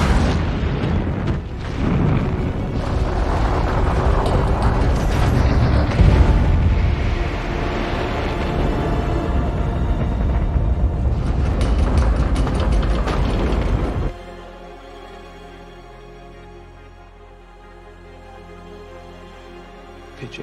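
The Freedom Seven rocket lifts off in a thunderous, crackling roar that rumbles heavily for about fourteen seconds, then cuts to a much quieter, low steady hum.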